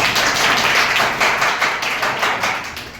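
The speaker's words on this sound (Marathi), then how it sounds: "एक जोरदार टाळ्या घ्यायला पाहिजे" Applause from an audience at a school event in Kuhi, a dense continuous clapping that stays loud and close for a few seconds before easing slightly at the end.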